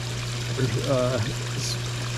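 Water runs steadily over the spillways of a winter koi pond, a continuous gentle pouring wash under a low hum, with a brief voice partway through.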